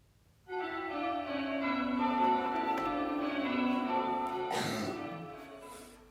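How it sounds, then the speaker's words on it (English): A single church bell strikes and rings out for Easter Day with a long, humming resonance that slowly fades, heard from a moderate distance. "The church bells peal for Easter Day."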